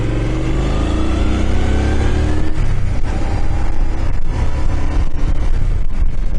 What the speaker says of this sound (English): Bloody cars come zipping around.